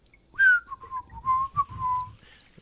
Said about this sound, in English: I whistle tunes that make me feel good